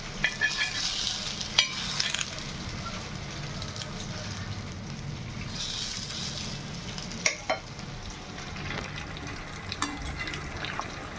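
Chicken seekh kebab sears in light oil in a pan with a steady soft sizzle and occasional stirring clinks and scrapes, close and continuous.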